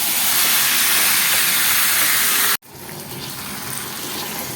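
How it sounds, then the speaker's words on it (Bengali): Chicken frying in oil in a pan gives a loud, steady, close sizzling hiss that drops out for an instant midway and then continues slightly softer, with no talk. "চিকেনটাকে দিয়ে ভালো মতন করে ভেজে নেবো আগে"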